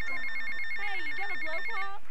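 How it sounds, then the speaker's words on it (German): A mobile phone rings inside GTA Vice City with a bright electronic ringtone. Repeating high beeps run under a rising and falling melody, alone and clear. "So, das Handy klingelt schon wieder."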